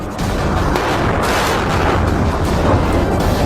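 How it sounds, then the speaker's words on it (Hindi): Dense, continuous heavy gunfire and booming blasts from street fighting in Sudan, heard from indoors, loud and sustained with no pauses. "बाहर से लगातार फायरिंग की आवाजें आ रही हैं"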